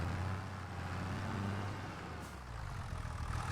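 A tractor engine in the Farming Simulator 25 game drones steadily at close range with a deep, low rumble, holding a constant level from start to finish with no talking over it.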